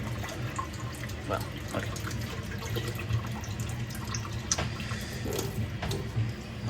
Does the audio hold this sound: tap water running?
yes